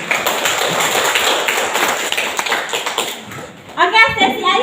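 Teachers at a school session clap their hands together, a burst of scattered claps under room chatter, fading before a voice speaks at the end.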